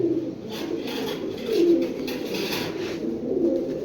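A flock of male triple-patti red-gear pigeons coos in low, rolling murmurs, several birds overlapping close by against a steady background hum.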